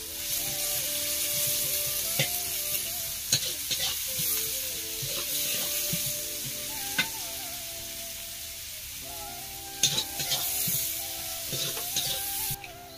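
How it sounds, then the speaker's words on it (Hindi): Chopped onion sizzles and fries in a kadai as egg curry masala is started, a steady hiss with scattered clinks and scrapes of a stirring spoon, close and fairly loud, with no talking. "ଏବେ ପିଆଜ ପଡ଼ିଗଲା ପୁଣି କଡ଼େଇରେ ଏବେ ଅଣ୍ଡା ଝୋଳର ମସଲା କରିବା ପାଇଁ"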